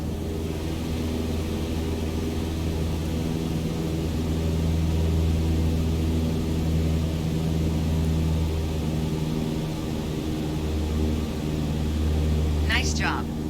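A steady, droning single-engine propeller airplane hum from Microsoft Flight Simulator 2021 fills the cockpit at cruise power near 2,300 RPM, continuous and fairly loud, with a voice giving flight instructions over it.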